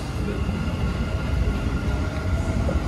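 A metro train at the Burj Khalifa/Dubai Mall metro station in Dubai gives a steady, moderately loud rumble and rail noise that holds evenly throughout, with no talk.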